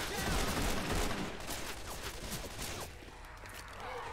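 Rapid gunfire rattles in the Left 4 Dead 2 video game, a dense run of bursting shots that fades slightly over a few seconds, with no voices.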